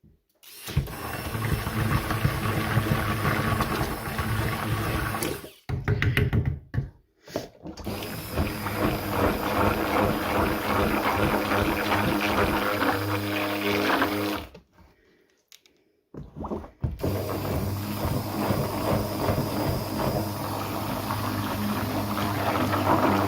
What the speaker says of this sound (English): I give it a quick stick blender stir to make sure it's all incorporated evenly into the batter